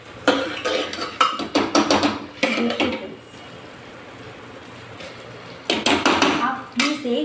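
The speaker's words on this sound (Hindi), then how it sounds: "अब हम इसे ऐसे ही 1-2 मिनट तक चलाते रहेंगे" Mor dhan khichdi is stirred in a pan, bursts of spoon scraping and clinking against metal coming in uneven clusters with a quiet pause in the middle.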